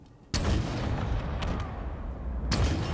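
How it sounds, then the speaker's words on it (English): Two heavy rocket launcher explosions in Halo Infinite, one early and one near the end, booming loud and close over continuous rumbling battle noise. "using the rocket launcher to send them flying"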